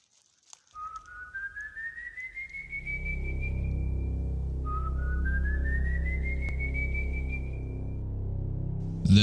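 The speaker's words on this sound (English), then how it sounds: "This is the whistle of Silbon, a legend of a few countries in South America." A whistle tied to the Silbon legend of South America: two long rising whistled glides, each climbing slowly in pitch, the second following after a short gap, over a steady low rumble.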